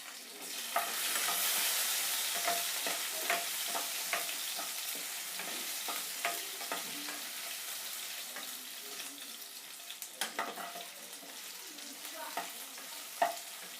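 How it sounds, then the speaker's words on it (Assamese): Potatoes fry in hot oil in a pan, sizzling steadily at close range with scattered clicks from stirring, and no one talking over it. "মই ইয়াতো আলু ফ্ৰাই কৰি লৈছোঁ। তেল বেলেগ দিব নালাগে, একেখন তেলতে হৈ যাব।"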